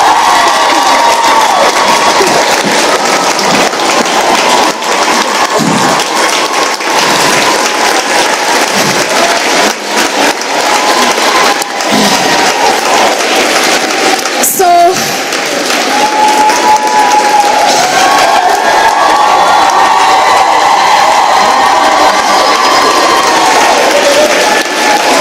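Large crowd applauding and cheering at an outdoor Tanzanian 60th Independence Day celebration, a dense, steady roar of clapping and shouts lasting throughout with a whistle-like tone midway.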